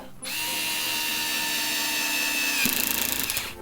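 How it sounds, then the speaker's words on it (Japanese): A Bosch GO3 or Vessel electric screwdriver driving a screw into plastic at its lowest torque setting, a steady motor whir that ends in a rapid clutch ratcheting clatter. "一番弱いトルクで締めてみましょうか"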